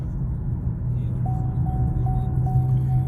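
A cheap old Chevy Impala drives with a smooth transmission, giving a steady low cabin hum. A thin, evenly spaced chime beeps repeatedly over it partway through.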